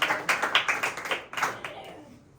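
A church congregation at a Sunday service claps hands in a quick irregular patter of close, fairly loud claps that quickly fade to quiet.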